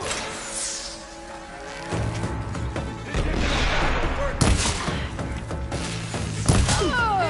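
Gunfire in a Horizon Forbidden West battle: repeated sharp shots and heavy thuds over a steady rumble, with two louder blasts standing out close by. Voices speak in the mix.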